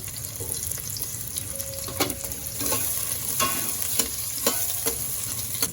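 Onion and garlic sauté in a pan for sinigang na bangus sa sampalok. A steady, close sizzle runs throughout, and a utensil stirs the pan with a few sharp scrapes and clacks.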